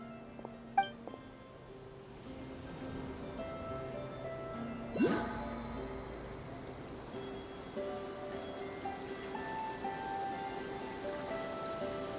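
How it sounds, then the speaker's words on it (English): Soft, steady rainfall in the video game Genshin Impact, a low continuous hiss under faint musical tones, with a brief louder splash midway. "Don't stay out in the rain for too long. You'll catch a cold."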